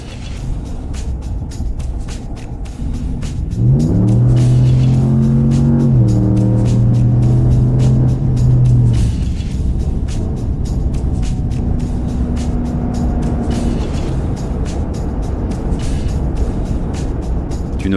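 A 2026 Ram 1500 V8 pickup truck drives along with a steady engine drone that swells into a deep, rising pull around mid-clip, then settles to a sustained cruising hum with no talking.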